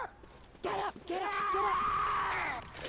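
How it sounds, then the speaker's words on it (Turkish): An infected Smoker in the Left 4 Dead 2 co-op video game lets out a loud, drawn-out groaning yell lasting well over a second, preceded by a brief harsher cry over background game noise. "Kim bağırıyor la öyle? Smoker mi?"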